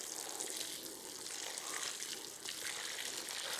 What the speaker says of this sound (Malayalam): അപ്പോൾ നമുക്കിതിനൊന്ന് നന്നായിട്ട് നനച്ചു കൊടുക്കാം